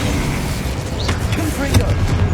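A Confringo spell explosion in Hogwarts Legacy, heard as a dense, loud rumbling burst of booms and crackles filling the whole moment, with a voice briefly heard amid the chaos.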